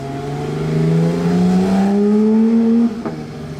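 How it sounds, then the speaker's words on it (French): A BMW M2 accelerating on a Monaco street: a loud, close engine note climbs steadily in pitch for nearly three seconds, then drops off abruptly as the throttle lifts. "M2 qui accélère en dessous"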